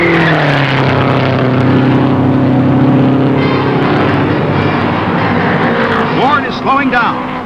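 1960 Indy 500 race cars blasting through the turns on worn tires: a loud, continuous engine roar with steady droning tones that later waver and sweep in pitch as cars pass close by.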